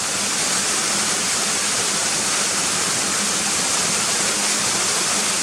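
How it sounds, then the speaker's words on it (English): A waterfall near Gunnerside on the path to Muker roars in a constant, broad rush of falling water, steady and fairly close, with no voices over it. "there's the waterfall, it's beautiful"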